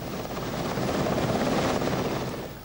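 Helicopter aboard the aircraft carrier HMS Invincible, a steady rotor and engine roar with a broad, rushing texture, fairly loud and unbroken for the whole stretch, no voices.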